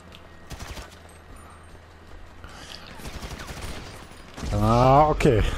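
Gunfire erupts in GTA V Online as bursts of rapid, sharp shots, close and loud, with a voice speaking over the final seconds.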